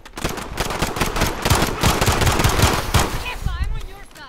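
Modern Warfare multiplayer gunfire: loud, rapid automatic bursts rattle almost continuously, then taper off near the end, with a player's voice mixed in.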